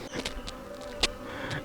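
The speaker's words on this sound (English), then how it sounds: "these bees were busy working on their winter stash" Feral honey bees buzz around a broken-open hive, a continuous close hum with scattered brief louder passes and faint clicks.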